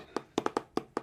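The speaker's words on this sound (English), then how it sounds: "On that downbeat, we do a diddle, which is a quick bounce, 2 notes." Six quick, light taps on a drum, with a fast double stroke mixed into an even sixteenth-note pattern, close and fairly soft, with no talking.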